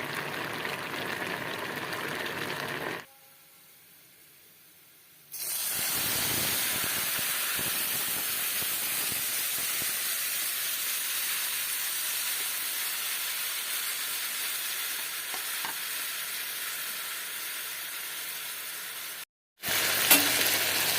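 Garlic tempering hisses and sizzles loudly in a hot pan with bitter gourd vegetable curry, a dense steady frying crackle that briefly cuts out twice and returns, no one speaking.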